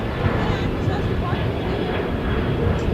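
A United Airlines Boeing 737-900ER departing at LAX gives a steady, broad jet roar that holds at one level throughout, heard from a distance and mixed with a voice talking over it.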